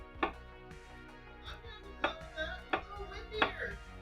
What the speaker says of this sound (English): Currently just chopping up vegetation that's going to get roasted up to go with our Mississippi instant pot roast.